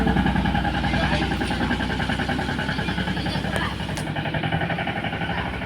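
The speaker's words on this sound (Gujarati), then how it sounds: "અહીંથી ટ્રેક્ટર છે" A tractor engine runs close by during the groundnut harvest in rainy weather, a steady pulsing chug that eases slightly partway through while people talk over it.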